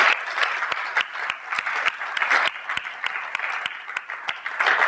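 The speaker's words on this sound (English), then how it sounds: "Give our panelists a round of applause" Dense applause from a conference audience for a panel, many hands clapping steadily and fairly loud for about five seconds, with no talking over it.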